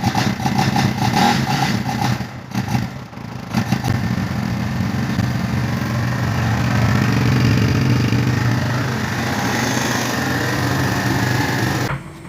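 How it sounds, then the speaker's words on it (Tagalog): A Kawasaki Barako II motorcycle with a timing chain problem starts and settles into a steady, loud idle, the small engine buzzing close by with a brief dip near the start and cut at the end. "Take the ignition key and start the motorcycle engine."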